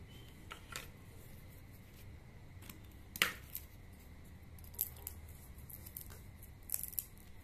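Scissors snip through a wooden ice cream stick during a craft project, giving a few quiet, sharp cuts and clicks spread across a hushed room.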